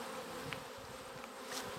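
Honeybees buzzing in a dense, steady swarm during a Langstroth hive inspection, the drone raised to a high, agitated pitch, close by and continuous with no voices.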